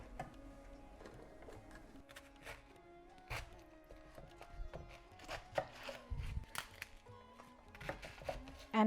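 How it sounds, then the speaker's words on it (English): A knife cuts cabbage into chunks for a vegan rice bowl, making a series of close, irregular chopping knocks against a board, some quick and clustered, at a fairly quiet level. "I love this cabbage, so I'm just cutting like chunks of this"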